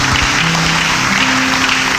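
A church congregation claps together loudly, a thick, even roar of applause that fills the whole brief moment without letting up.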